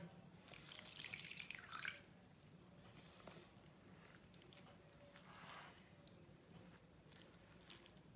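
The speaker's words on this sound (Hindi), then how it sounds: "पानी डाल के।" Water pours and splashes from a tap into flour for radish paratha dough, a bright gush for the first two seconds, then quieter trickles and faint drips in a kitchen.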